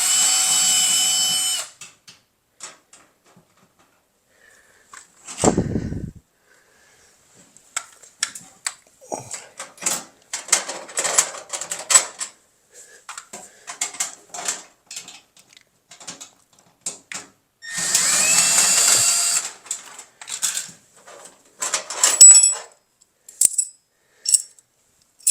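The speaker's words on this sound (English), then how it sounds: "Cordless drill to do that." A cordless drill loosens the cord strain relief on a clothes dryer in short bursts of whirring, with metallic clicks, rattles and a brief low thump between the runs.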